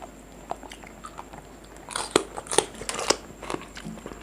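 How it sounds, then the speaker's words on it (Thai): Crisp crunching bites and chewing up close on crunchy squid tentacles, starting with soft scattered clicks and growing into louder irregular crunches. "หนวดมันกรุบกรุบดีนะ"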